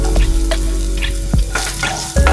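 Garlic, grated coconut and tamarind roast in a pan for Mangalorean chutney, a close, steady sizzle punctuated by repeated scraping stirs of the spoon.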